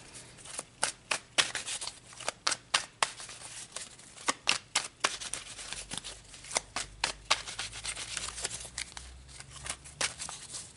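A deck of tarot cards is shuffled close by, with quick riffling bursts and soft slaps repeating irregularly throughout, fairly quiet and without talk.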